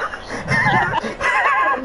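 A man in a casual voice chat imitates a horse with a loud, close, wavering whinny, two drawn-out quavering neighs broken by a short pause.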